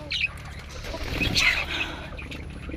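A brief flurry of wing flaps as a bird takes off nearby, with faint chirps around it; no voices.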